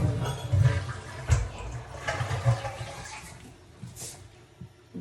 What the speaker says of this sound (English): And we flush it.